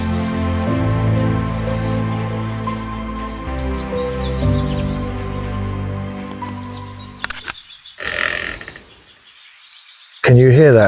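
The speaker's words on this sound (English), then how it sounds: "That is the sound of a tree creaking so badly that it may fall down." A storm-damaged tree creaks badly as if about to fall, giving a long sustained groaning drone with layered tones that breaks off abruptly, followed by short rough creaks and snaps.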